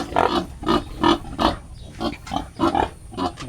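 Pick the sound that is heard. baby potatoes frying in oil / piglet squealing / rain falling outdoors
piglet squealing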